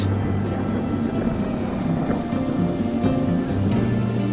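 Steady heavy rainfall with low rumbling thunder, a dense continuous wash of drops and a deep roll underneath, fairly loud and with no voices.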